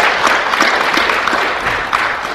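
Audience applause at a SecureWorld security conference keynote in Kansas City, a short burst of steady clapping from a mid-sized crowd in a hall, fairly loud and close.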